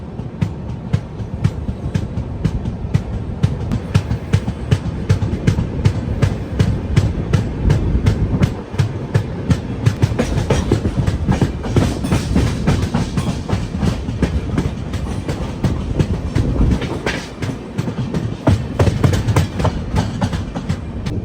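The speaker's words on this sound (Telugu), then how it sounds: "నిలయం స్టేషన్ నుంచి మన ట్రైన్ అయితే బయలుదేరిపోయింది" Kondaveedu Express train running on rails through Rayalaseema, with loud, continuous rumble and rapid rhythmic clickety-clack of wheels over rail joints, heard close from inside the moving train.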